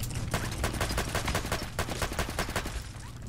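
Rapid automatic gunfire in the Fallout 4 game, a dense stream of sharp repeated shots in a steady burst lasting the whole stretch, loud and close with no talk over it.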